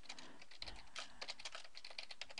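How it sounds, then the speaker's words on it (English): Someone types a reply on a computer keyboard, a fast, uneven patter of close, crisp key clicks that continues throughout with no talking. "So I'm typing my response"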